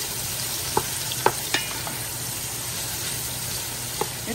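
Onions frying in a large soup pot for beef pochero, a steady soft sizzle with a few sharp clinks of a stirring spoon against the pot.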